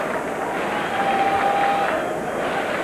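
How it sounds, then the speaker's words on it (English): A large rugby stadium crowd at a Rugby World Cup match, New Zealand against Japan in 1995, keeps up a continuous loud roar with a chant in it, while a commentator talks over the top. "And the crowd already chanting, easy, easy."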